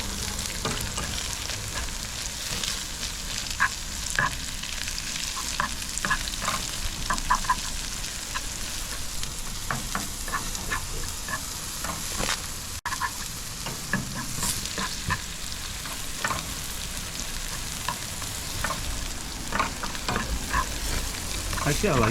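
British half-pound Aberdeen Angus burgers sizzle and fry on a grill, getting a little burnt, with a steady, close crackling hiss and scattered pops that continue for over twenty seconds without speech.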